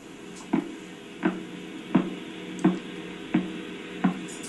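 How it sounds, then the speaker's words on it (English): A pulsar's radio signal rendered as sound: six evenly spaced thumping pulses, about two-thirds of a second apart, over a low static hum. "that's the sound of a pulsar."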